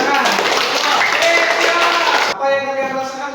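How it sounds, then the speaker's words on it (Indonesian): A classroom of students claps together during a history lesson, a dense burst of hand clapping that stops abruptly, followed by voices talking. "Oke, betul. Tepuk tangan."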